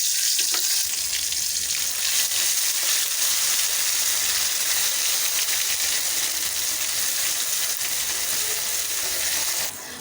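Dried red chillies, whole panch phoron and white mustard paste frying in hot oil for a sweet-sour mango pickle make a loud, continuous sizzling hiss that holds for about ten seconds before cutting off.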